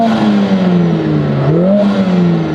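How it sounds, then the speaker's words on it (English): Lotus Emira with a four-cylinder turbo engine revving in sport mode, its wastegate whooshing and whistling above a steady loud engine drone, with a rising pitch swell partway through. "That wastegate of the turbo."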